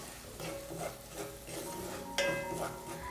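Ground roasted spices being sautéed for a mango dish, a soft sizzle beneath repeated scraping and stirring strokes of a utensil against the pan, with a brief metallic clink.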